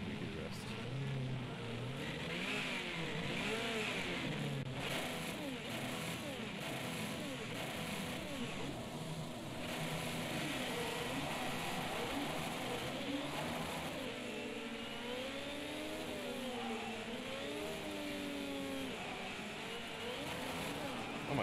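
Project CARS 2 race car engine, a high-horsepower machine, revving and climbing through gears on a twisty track, with sustained loud engine drone and pitch sweeps under a talking voice.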